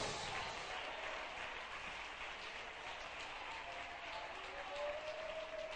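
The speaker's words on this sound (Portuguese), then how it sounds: "Palmas." A church congregation claps at a national convention service, a steady wash of distant, quiet applause throughout, with a thin sustained tone near the end.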